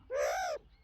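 A single short, clear caw imitating a crow sounds nearby and on its own. It arches up in pitch and cuts off after about half a second, with a quiet room behind it.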